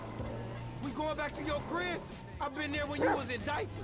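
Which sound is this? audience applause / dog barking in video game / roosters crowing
dog barking in video game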